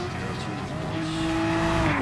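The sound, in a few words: race car engines in GT Sport video game at Interlagos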